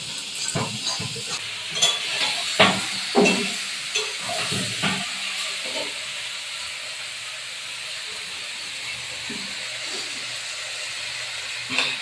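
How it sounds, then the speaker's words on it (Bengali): Pieces of chicken drop one by one into a pan of spiced mustard oil, setting off a steady sizzling hiss with several sharp thuds and stirring scrapes early on, then a continuous close frying sound. "এখন আমি দিয়ে দেবো চিকেনটা এবারে এক এক করে আমি ছেড়ে দেবো, দিয়ে ভালো করে কষাবো।"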